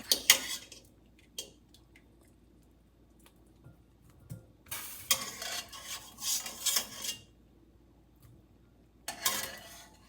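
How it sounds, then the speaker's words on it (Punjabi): Boiled potatoes are rubbed over a grater in scattered rasping strokes, a few short scrapes at first followed by a longer burst of quick grating and one more stroke at the end, with quiet gaps between. "ਆਪਾਂ ਇਦਾਂ ਇਹਨਾਂ ਨੂੰ ਕੱਦੂਕਸ਼ ਕਰ ਲਿਆ ਆ"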